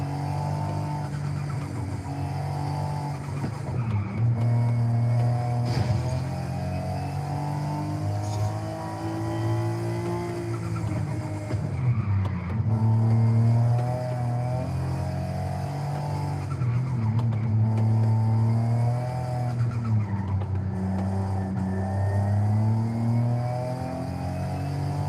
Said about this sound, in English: Ooh, that blowout valve is singing.